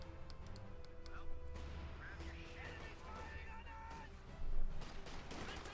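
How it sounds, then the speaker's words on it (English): MG42 machine gun fire in Company of Heroes 2 comes as a muffled burst of battle gunfire mixed with other combat noise, while a commentator talks over it throughout. "But right within the arc of fire, the MG42 and quick fire suppressed."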